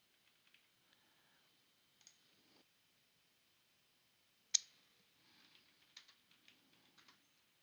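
Faint, scattered keystrokes and clicks on a computer keyboard, sparse and quiet with one sharper tap midway, then a brief flurry of typing near the end.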